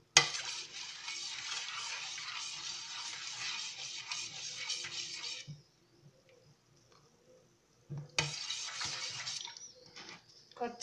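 A spoon swirls and scrapes through wet pathiri rice batter mixed with salt in a bowl, a continuous swishing that pauses briefly and resumes, with faint background sounds.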